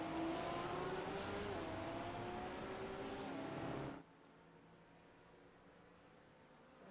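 GT3 race cars, including an Acura and Corvettes, roaring around the Daytona circuit with a loud engine drone and rising pitch for about four seconds before it cuts to a quieter, distant track hum.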